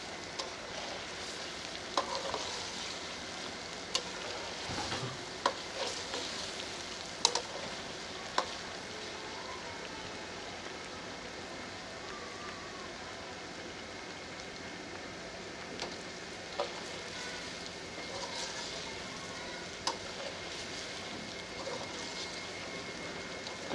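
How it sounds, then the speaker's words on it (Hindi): Potatoes fry in ginger and garlic paste in a karahi for an Afghani aloo karahi, giving a soft continuous sizzle with occasional stirring clinks and scrapes, no talking. "मैंने इसे आलू को अदरक और लहसुन के पेस्ट में फ्राई कर लिया है।"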